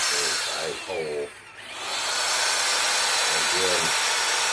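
A power drill bores holes through wood while a handmade cooking utensil is being made, its loud, steady whir running for several seconds after a short stretch of voices and a brief pause.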